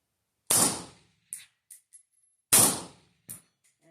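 A PSA AK101 rifle fitted with a Huxwrx Ventum 7.62 suppressor fires supersonic ammunition on a range: two sharp, loud suppressed reports about two seconds apart, each followed by brief metallic clanks and echoes.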